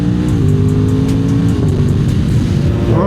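Cars travel on a two-way road, heard from a moving A2-licence motorcycle as a loud, steady engine drone mixed with rushing road and wind noise throughout, with no talking.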